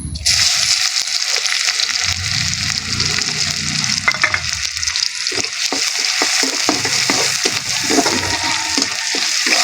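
Onion and garlic frying in hot oil to temper dal, a loud continuous sizzle with stirring clatter and scraping of the spoon in the pan close by.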